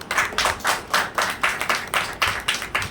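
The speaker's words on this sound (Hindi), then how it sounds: "एक बार हम सबके लिए जोरदार तालियां बजाएं" Audience at a women's movement gathering claps in loud, unison rhythmic beats, about five evenly spaced claps per second, sharp and close, with no talking over it.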